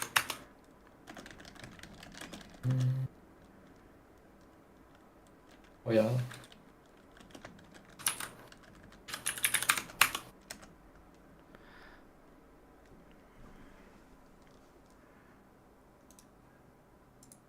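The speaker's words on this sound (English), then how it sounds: "I can hear a keyboard." Computer keyboard typing comes in short bursts of clicking keys spread across a quiet room, with pauses between, alongside brief speech.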